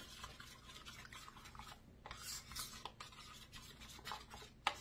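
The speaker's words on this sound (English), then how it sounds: "We're going to mix those together." Ground meatloaf mixture stirred by hand together with ketchup, producing soft, wet squelching and rubbing sounds that continue steadily at close range, with a sharper clack near the end and no talking.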